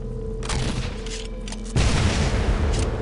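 Gunfire in the Delta Force video game (Black Hawk Down, Greybird Extreme map): repeated booming shots and bursts that grow louder and denser midway, with a steady low rumble underneath.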